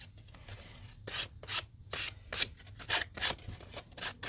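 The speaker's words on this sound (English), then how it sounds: "I just have a piece of sandpaper, and I just sand it right off." Sandpaper rubbed against the bumpy cut edges of paper in a crafting session: a series of rhythmic, quiet, close scratchy strokes, about a dozen in quick succession, with no talk.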